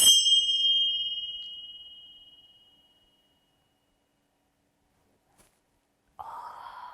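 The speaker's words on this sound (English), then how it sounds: "Such a nice sound that the tincha bells make." A pair of tingsha bells struck once, giving a bright, pure ring that fades slowly over about three seconds into silence before a soft breath-like noise at the end.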